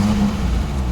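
Peugeot 505 V6 with a manual gearbox accelerating gently, a close, steady low engine drone with a mild rise in pitch over a short moment.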